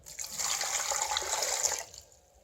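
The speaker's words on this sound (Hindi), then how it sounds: "अब मगज़ और 1 जग इसमें पानी ऐड कर देते हैं।" Water pours from a jug into a pressure cooker holding goat trotters and marrow, a continuous close splashing rush lasting about two seconds before trailing off.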